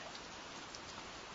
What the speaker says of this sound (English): Nothing but rain has been coming into the area.